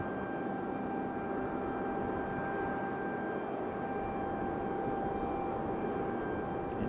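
Southwest airliner on approach to Raleigh-Durham airport, a distant steady jet engine drone with a faint high whine, continuous and even, no talk.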